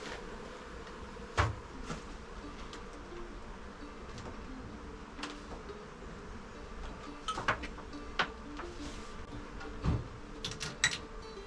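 Wild honey bees from a swarm in a swarm trap give a faint, steady buzz during hive transfer. Occasional soft knocks and clicks of handling rise above the low drone, with no talking.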